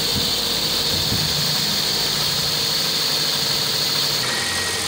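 Toyota Altis with a broken ground connection idles while warming up after sitting unused for a long time, a loud, close, steady engine drone with a faint rough vibration throughout.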